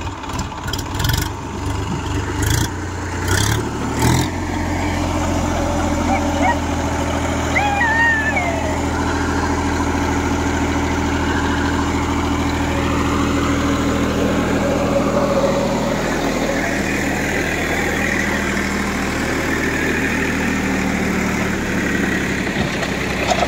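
A Massey Ferguson 50HP tractor with a trolley idles nearby, its steady low diesel rumble running continuously after a few clanks at the start, with voices talking over it at times.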